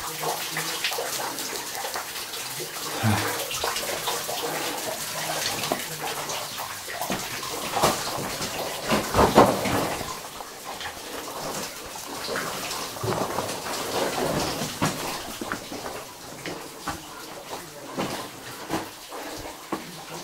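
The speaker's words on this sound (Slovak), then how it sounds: "Ďalší malý vodopádík." Water streams and spatters steadily in a cave, a small waterfall falling and dripping onto rock, with a continuous splashing rush and scattered louder drops throughout.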